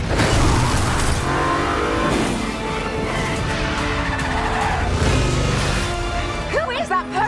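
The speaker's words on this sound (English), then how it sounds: "Tom is driving and drifting one-handed through the streets of Rome." A car drifts one-handed through the streets of Rome, tires squealing and engine roaring loudly under dramatic music and effects, with the skid sweeping on continuously before fading near the end.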